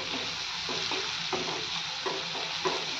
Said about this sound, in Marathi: कांदा आपला छान असा भाजत आलाय